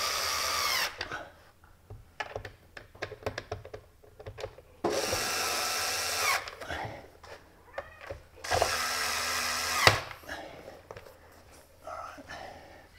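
Power screwdriver driving the screws of a ceiling speaker into place, several loud whirring bursts with clicks and handling noise between them, close by.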